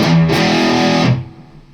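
Electric guitar plays one bar of the main riff with a distorted, bright tone, loud and close, ringing out and fading at the end with no talking.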